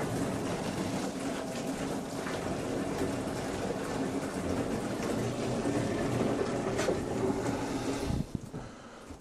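Water pouring into a storage container being filled for long-term storage, a steady, moderately quiet splashing and gurgling rush that continues evenly before cutting off near the end.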